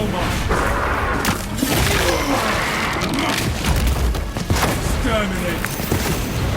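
A spore mine is blasted apart in Warhammer 40000: Space Marine 2, heavy booms and gunfire crashing loudly amid battle noise while voices speak over it.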